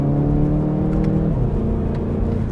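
A 2018 VW Golf GTI SE, a light hatchback with 258 lb-ft of torque, pulls hard on a snowy road, its engine note a loud, steady drone from inside the cabin with no talking.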